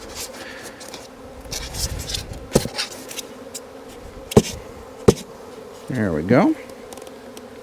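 Bees swarm around a cooler swarm trap outdoors, a close buzzing that rises and falls with a loud pass near the end, broken by a few sharp knocks, and someone briefly speaks.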